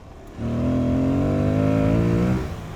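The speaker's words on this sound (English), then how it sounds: "That intake noise was one of the first things I loved about it" A nearby Aprilia Tuareg 660 motorcycle engine revs up and holds a steady roar with a throaty intake growl for about two seconds, then drops back to idle.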